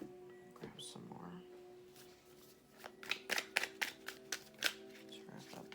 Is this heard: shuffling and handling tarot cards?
yes